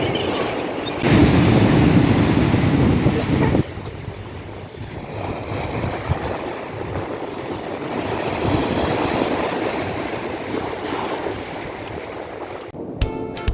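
Black Sea waves wash onto the shore at Odesa in broad, hissing surges, mixed with blustery wind noise; no voices are heard.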